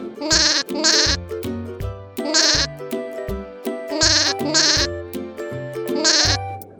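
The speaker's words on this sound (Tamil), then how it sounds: "செம்மறியாடு, செம்மறியாடு," Sheep bleating in repeated bursts, several loud, wavering calls in a steady rhythm, close and clear over a regular low thumping background beat.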